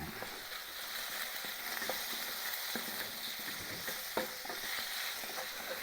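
Minced pork with garlic and ginger stir-fried for mapo tofu, a continuous quiet sizzle broken by frequent spatula scrapes and taps against the wok, with no talking.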